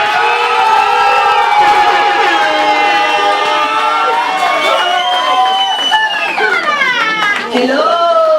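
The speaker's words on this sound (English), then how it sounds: "Let's give Donald a big round of applause." An audience at a business awards ceremony cheers and shouts loudly for an award presentation. Many voices overlap in a sustained, dense roar with high excited calls rising above it.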